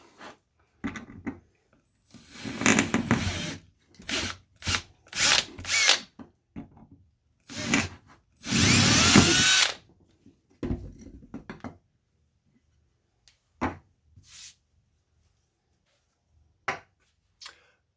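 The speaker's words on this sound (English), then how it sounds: "Using a 3/16 inch drill bit, I'll drill out these holes." A power drill with a 3/16 inch bit bores holes in fiber paper for glass slumping, buzzing in short and longer bursts with quiet gaps and faint handling clicks between.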